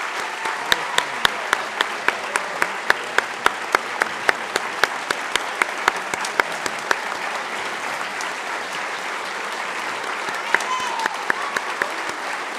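A school audience gives a warm round of applause for state SkillsUSA medalists, with dense, even clapping and distinct sharp claps running for several seconds before thinning slightly toward the end.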